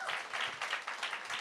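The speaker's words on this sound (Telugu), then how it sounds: "అందరికీ ఒకసారి క్లాప్స్ కొట్టండి." Soft, rapid applause from an audience at a Telugu film's success celebration, clapping for the movie's cast. Faint, steady and a little distant, with no voices over it.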